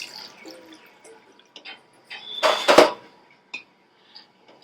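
Water poured into a pressure cooker over washed, soaked chickpeas with a little salt, heard as a short burst of splashing and trickling in the middle, with sparse drips and small clinks before and after, close by.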